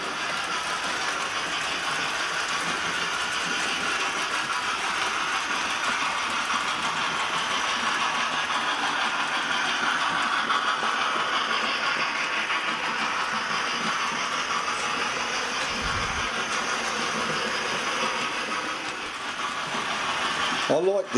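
An LNER A4 steam locomotive rumbles past pulling a passenger train through a village, a steady mechanical drone with hissing and clanking carried on for a long stretch.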